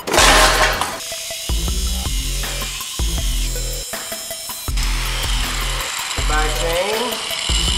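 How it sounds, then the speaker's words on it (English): A power tool whines and grinds as it cuts into the metal frame of a Rad Power electric bike, a loud, close, stuttering buzz with repeated pulses and pitch shifts. "Didn't want to have to cut into the metal frame of this guy, but it's getting too hard."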